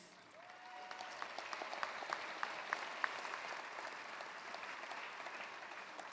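An audience at the Hudson's Bay High School Class of 2025 graduation ceremony applauds faculty taking their places, a steady, fairly distant patter of many hands clapping with sharper individual claps now and then.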